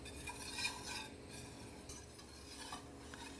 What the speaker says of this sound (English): We're going to whisk this vigorously.